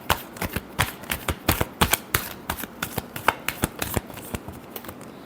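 A deck of tarot cards shuffled up close, with quick, repeated snapping riffles and flicks in a fairly steady rhythm and no voices.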